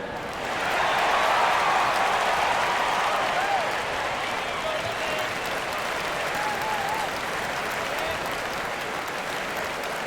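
A large crowd cheers and claps loudly at an NBA preseason game, Wizards vs Knicks, in a big echoing arena, a sustained roar that peaks early and then holds steady.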